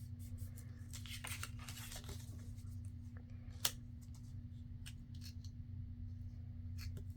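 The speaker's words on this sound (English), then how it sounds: "So you just want to fold your sides in to that mark" Paper folded and creased by hand into an envelope shape, soft close rustles and scraping strokes over a steady low hum, with one sharp tap midway; quiet and intimate.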